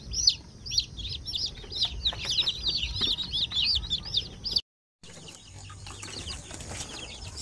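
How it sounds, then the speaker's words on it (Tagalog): Shamo Asil chicks fresh from an incubator peep in a busy, overlapping chorus of high chirps, loud and close, with soft rustling underneath; the calls cut out briefly partway through, then resume fainter. "So yan po ang ating mga sisiw."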